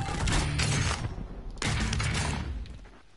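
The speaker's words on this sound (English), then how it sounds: "Assault rifle." Assault rifle fire in a video game, two loud dense bursts of rapid shots with crackling debris, the second burst tailing off, no voices.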